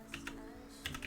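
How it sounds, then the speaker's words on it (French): A few clicky keystrokes on a newly received mechanical computer keyboard, typed in a short irregular burst with a pause in the middle, close by over a low steady background hum. "J'ai pas l'habitude de mon clavier mécanique que j'ai reçu"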